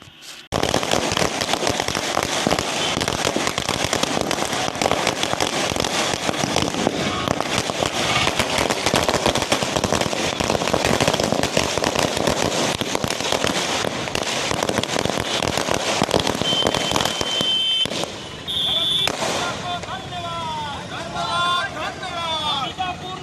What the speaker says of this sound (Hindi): अंबिकापुर के घड़ी चौक पर पटाखा फोड़, मिठाइयां बांट एक दूसरे को बधाई दी